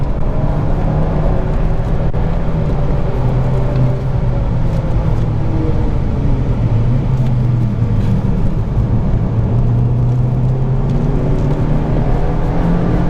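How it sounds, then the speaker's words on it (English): A car with a 2-litre TFSI engine overtakes at a busy GTI International car show in 2018, a steady, loud engine drone and whir sitting over continuous crowd-and-traffic noise with no clear single pass-by peak. "There goes Artec, the 2 litre TFSI expert, so no shame in being overtaken by them."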